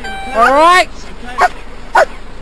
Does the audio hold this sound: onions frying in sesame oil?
no